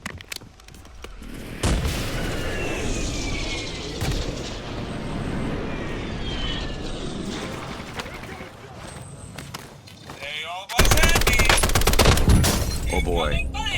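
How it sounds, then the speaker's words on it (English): Rapid gunfire rattles from a rooftop in the shooter game Warzone, as dense, loud overlapping bursts run almost without pause. A sharper, heavier volley erupts near the end, with faint voices underneath. "Gun returns fire from the same rooftop"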